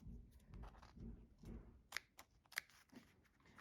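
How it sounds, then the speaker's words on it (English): Curved 5.5 inch Kai scissors snipping through vinyl up close, a few crisp cuts with soft crunching and rustling between them, quiet and deliberate. "They're very sturdy and cut the vinyl very easily."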